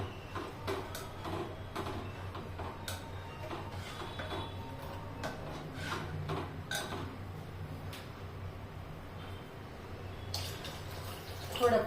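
Dal cooking water pours steadily into a pot amid soft kitchen clatter and scattered clinks, a continuous wet rush lasting throughout.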